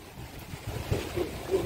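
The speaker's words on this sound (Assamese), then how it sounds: "हवा बहुत जोर से है ना अभी।" Strong wind gusts outdoors, a low rumbling buffet that swells and rises in bursts over its short span.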